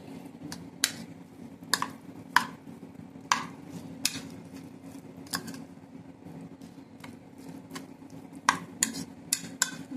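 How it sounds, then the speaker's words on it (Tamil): A spoon clinks and scrapes in a bowl as chicken filling is mixed with salt, pepper and mayonnaise, giving scattered sharp taps over a low steady room hum. "நல்லா மிக்ஸ் பண்ணணும். சால்ட், பெப்பர், மயோனஸ் எல்லாத்தையும்."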